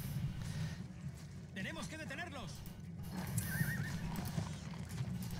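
Horses whinnying and hooves pounding in a battle within the Edain Mod 4.7 game, rising neighs standing out over a dense game soundscape while someone talks excitedly throughout.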